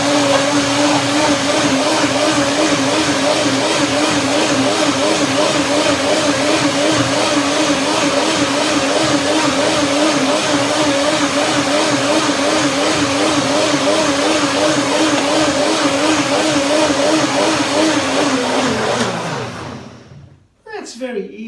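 A blender motor runs loud and steady for nearly twenty seconds blending mango pudding ingredients, its pitch wavering slightly, before cutting off abruptly.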